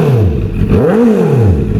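A Benda LFC700 Pro motorcycle engine, a Chinese-made bike, revs up loud and close, its pitch sweeping up and falling back in a smooth rise-and-drop over about two seconds.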